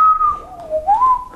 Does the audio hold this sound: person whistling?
yes